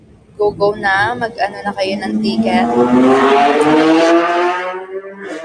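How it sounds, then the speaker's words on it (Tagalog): A motorcycle engine revs up loudly after a few spoken words, its pitch climbing as it roars close by, then tapering off. "Siyempre, ganun talaga yung tunog ng motor."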